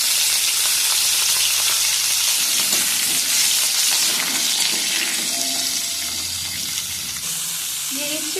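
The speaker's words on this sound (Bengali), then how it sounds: "গোটা সর্ষে আর শুকনো লঙ্কা একটু ভেজে নিয়ে দিয়ে দিচ্ছি কেটে রাখা মূলো।" Whole mustard seeds, dried chili and chopped radish fry in mustard oil with a loud, continuous sizzle and crackle, with soft stirring and watery hiss layered through it.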